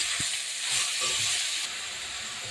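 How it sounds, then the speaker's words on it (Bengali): Leafy greens hit a hot pan of oil and cumin with a loud, steady hissing sizzle up close, a few soft stirring knocks in the first second, then a slightly quieter continuous sizzle. "সেই শাকটাকে আমি দিয়ে নেড়ে চেড়ে,"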